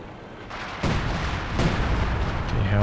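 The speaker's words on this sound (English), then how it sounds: "Some Werfer fire coming in. Some howitzer fire back the other way." Artillery fire from Werfer rocket launchers and howitzers in the war strategy game Company of Heroes 2, with two sharp booms in quick succession followed by a rumbling, distant barrage, no voices.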